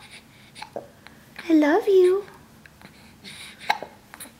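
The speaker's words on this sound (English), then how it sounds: "Oh, uh oh. Hiccups." A seven-week-old baby boy hiccups in short, squeaky bursts near the start and again later. An adult speaks softly close by.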